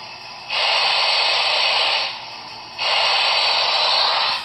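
HO-scale Broadway Limited C&O L-1 Hudson model steam locomotive switching from reverse to forward, giving a steady hissing, static-like sound that drops away briefly after a second and a half, then returns just as loud.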